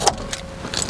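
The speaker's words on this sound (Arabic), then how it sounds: "ده المفتاح بتاع العربيه دي يعني اعتيادي" The key of a BYD F3 car jangles briefly close up, with a few light metallic clinks over a quiet background.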